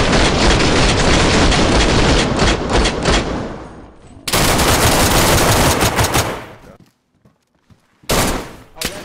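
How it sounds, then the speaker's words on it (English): Loud, close automatic gunfire in the video game DayZ on PS5, long rapid bursts that cut off abruptly, then a sharp near-silent gap before another short burst; voices talk in between. "I was shooting him"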